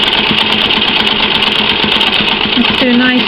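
Sewing machine stitching free motion quilting in a leaf design, a steady fast close hum and needle chatter throughout, with a few faint tonal squeaks near the end and no speech.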